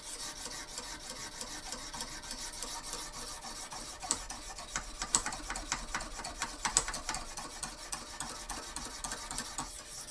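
A knife blade drawn across a Lansky sharpener stone gives quiet, repeated gritty rasping strokes in an irregular rhythm, close by and alone.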